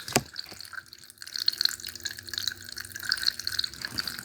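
Water from a small decorative fountain splashes and trickles over rocks close by, a steady bubbling stream with bright droplet splashes throughout.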